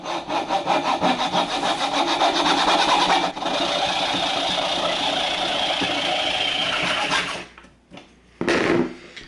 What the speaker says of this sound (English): So I'm using this coping saw and putting it right about here.